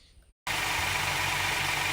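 A 2020 Hyundai Palisade engine idles steadily after an oil change with six quarts of motor oil, starting after a brief silence and holding a loud, even hum.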